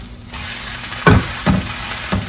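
An egg sizzles in a frying pan with a steady hiss, and three distinct scraping thumps are heard as a spatula works under it and flips it, all close and without speech.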